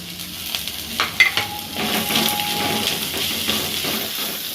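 Garlic sizzling and frying in a pan for Tamil-style chicken kuzhambu, a steady hiss with a few stirring clatters near the start, close and moderately loud.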